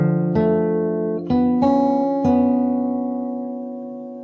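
Fingerstyle acoustic guitar plays part of the verse of a song: four plucked notes and chords ring out one after another and sustain, then slowly fade, with no talking.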